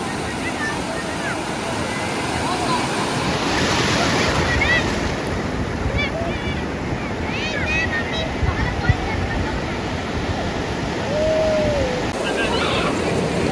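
Sea waves wash up on Rajodi beach in Vasai, a loud, continuous surf roar mixed with buffeting wind on the microphone, while voices talk faintly in the background.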